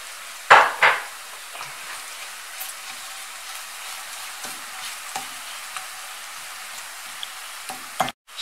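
Tomato paste stirred into a lentil and spinach filling sizzles steadily in a pan, opened by two loud scraping clatters of the utensil, then soft frying hiss with occasional light taps and a final clunk.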